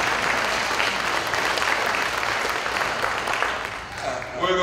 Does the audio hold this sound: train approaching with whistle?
no